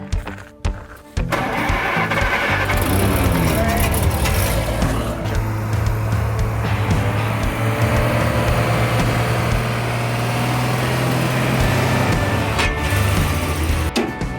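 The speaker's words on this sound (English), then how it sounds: "try the starter" An International heavy truck engine is tried on the starter. After a brief pause the engine catches and runs loud and close, with a steady rumble that holds for the rest of the clip.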